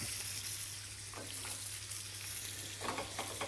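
Lamb sizzling and frying in a pan with thyme, a steady loud crackle with brief stirring scrapes as the meat is turned, no one talking.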